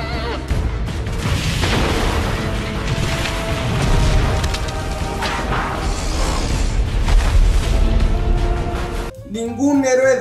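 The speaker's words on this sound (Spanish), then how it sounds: "¿Explosión? ¿Cuál explosión?" A loud action-movie explosion with deep booming rumble and roaring debris fills the scene, sustained for several seconds before cutting off abruptly, with voices audible beneath the blast.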